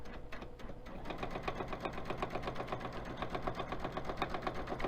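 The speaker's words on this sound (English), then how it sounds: "I'm on stitch number 3, just a regular centered straight stitch." Sewing machine running a regular centered straight stitch, a steady fast mechanical whir with rapid even needle clatter that starts up and holds for several seconds, close and alone.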